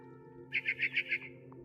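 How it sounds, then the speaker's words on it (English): A barn swallow heard from outside a window in What Remains of Edith Finch, a quick run of five clear chirps over a steady low game ambience. "It was a barn swallow going back to her nest."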